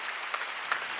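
A church congregation claps together during a Wednesday service, a short burst of quick, scattered applause heard faintly from a distance.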